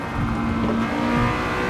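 A Honda car engine in Gran Turismo 7 drones steadily at a constant pitch throughout, with no talk over it.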